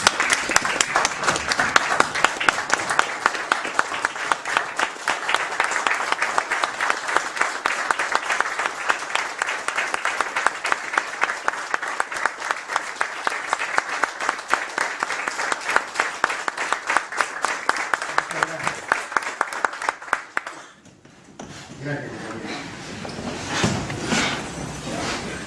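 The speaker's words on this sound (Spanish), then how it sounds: "vamos a hacerle un minuto de aplauso" A large gathering claps for a tribute, a loud and steady rhythmic applause that holds for about twenty seconds before fading into scattered claps and murmuring voices.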